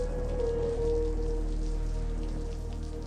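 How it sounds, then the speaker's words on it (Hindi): Heavy rain falling steadily, a dense, even hiss of drops on surfaces, close and constant with no voices, a low tonal hum running underneath. "इतनी तेज बारिश"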